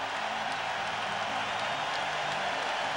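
Crowd noise at a Celtics playoff game against the Pistons in 2002, inside Boston's Fleet Center basketball arena: a dense, steady roar of cheering and applause that never lets up.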